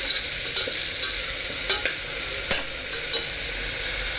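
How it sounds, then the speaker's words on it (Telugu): Turmeric frying lightly in a pan for rajma curry gives a steady, close, broadband sizzle, with a few soft scrapes and clicks from stirring scattered through it and no voices. "సో పసుపు వేసి ఫ్రై చేసుకుంటున్నానండి కాస్త లైట్గా."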